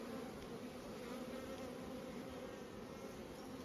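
Honey bees buzz in a dense, continuous drone around an open hive, steady and close throughout with no talking.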